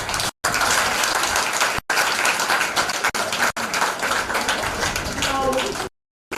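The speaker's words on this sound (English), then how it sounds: "please give a round of applause." Audience of past students applauding at a primary school leaving ceremony, dense continuous clapping broken by several abrupt dropouts, with voices and crowd noise mixed in.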